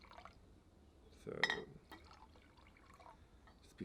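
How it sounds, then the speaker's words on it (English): Apple juice poured over oats in a bowl, a short splashy liquid burst near the middle, with soft clinks and faint handling sounds around it in a quiet home kitchen. "just pour it in. Like so, all around the oats."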